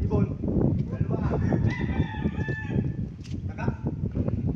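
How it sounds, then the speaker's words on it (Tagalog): Gamecock roosters crow repeatedly on a sprawling fighting-cock farm compound, several birds calling over one another at close and middle distance amid steady clucking and farm clatter. "Farm pala ito mga Pinoy, farm po ng sasabunging manok."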